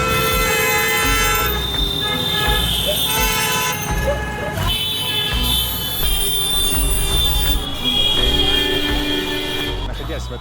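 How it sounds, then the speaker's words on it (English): Dense street traffic in Varanasi, India, with rickshaws and mopeds passing: loud overlapping horn toots and honks sound almost without pause over constant engine noise and crowd din. "Everyone is honking at each other."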